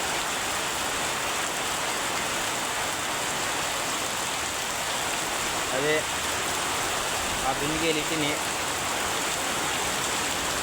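Steady rain falls in a dense, even hiss that runs throughout, close and constant, while a voice speaks briefly over it.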